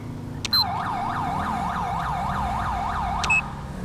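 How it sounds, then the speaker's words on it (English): Wailing police siren in the LSPDFR police mod for GTA V, a steady looping up-and-down yelp, loud and close, with two brief electronic horn blasts near the start and end and no talk. "I will turn on my siren at you."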